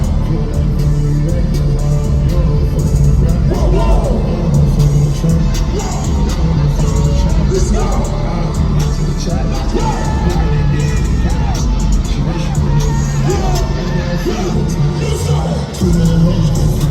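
A packed concert crowd at an Antagonist 2.0 tour show in Atlanta roars and cheers continuously over loud booming music, a dense, unbroken wall of noise.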